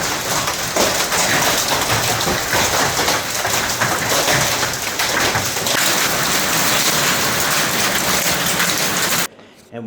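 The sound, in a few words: hailstorm with massive hailstones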